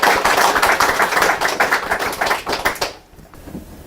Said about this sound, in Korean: 큰 박수로 시작을 하겠습니다.